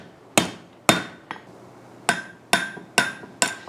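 Blacksmith's hammer striking steel held over the edge of an anvil while forging a pintle hinge: seven sharp, ringing metallic blows in an uneven rhythm, close and loud, with one lighter tap among them.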